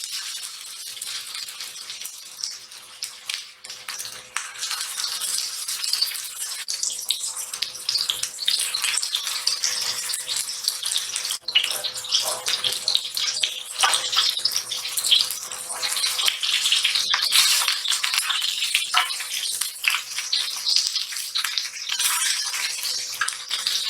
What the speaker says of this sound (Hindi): अब मैं कबाब फ्राई करती हूँ।